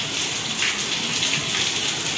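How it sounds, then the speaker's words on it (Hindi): Heavy rain comes down outside a home during a monsoon morning, a loud unbroken hiss and patter of water that holds steady throughout without any talking. "मेरे इधर तो बारिश हो रही है"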